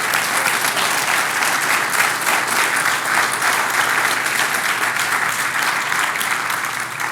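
A congregation applauds at a church service, steady dense clapping that fills the whole stretch at even loudness with no pauses, close and full, with faint crowd noise mixed in and no clear talking.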